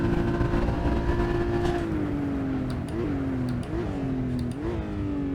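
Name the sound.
Porsche Cayman GT4 engine accelerating on track at Imola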